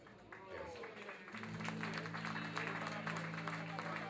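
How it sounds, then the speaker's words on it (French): Audience applause at a tribute, scattered clapping that builds into fuller applause beneath sustained music and some talk. "Un applaudissement beaucoup plus chaud quand même pour penser à un frère qui est tombé en pleine bataille."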